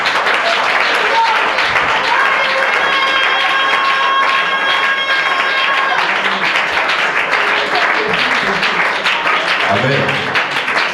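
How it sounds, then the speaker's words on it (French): A church congregation applauds and cheers to acclaim the Lord, a loud, sustained wash of clapping and shouting voices from a full room, holding steady for the whole stretch. "Est-ce qu'on peut acclamer le Seigneur?"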